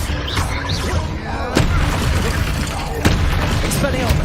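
The Confringo fire spell explodes in Hogwarts Legacy, a couple of sharp booming bursts cutting through busy combat noise and rumble, with a voice speaking in the mix.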